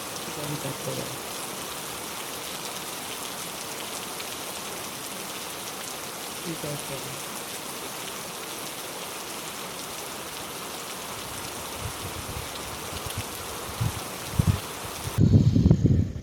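Heavy rain pours down steadily for a long stretch, a dense even hiss of drops on surfaces that stays constant and fairly loud. Near the end comes some handling noise and brief talk.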